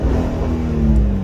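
A Honda Odyssey engine revs up during an oxygen sensor check, a loud, close, sustained rising drone heard alone.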